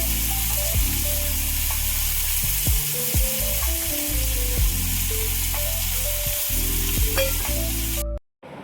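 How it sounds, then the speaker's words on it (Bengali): Potatoes fry in oil in a kadai wok, a loud, continuous close-up sizzle punctuated by scraping clinks of stirring, cutting off abruptly at the very end. "তো আলু ভাজা হচ্ছে এখন"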